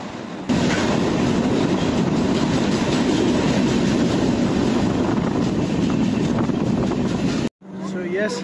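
A Konkan Railway train runs on as a flatbed goods train crosses on the next track, giving a loud, dense, steady rolling roar with rhythmic wheel clatter that cuts off abruptly near the end.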